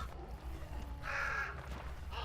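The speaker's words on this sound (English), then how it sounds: "Oh, look, more crows. I wonder if I'm gonna spook them." Crows caw in the bayou of the game Hunt: Showdown, a brief cluster of harsh calls rising over a low ambient rumble, moderately close and loud, with no talking.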